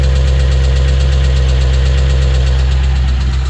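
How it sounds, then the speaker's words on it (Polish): A Land Rover Discovery V8 idling with a fault that makes it knock: a loud, close, steady low rumble with a fast, even tapping pulse running through it and no voices. "Jak ta V8-ka chodzi."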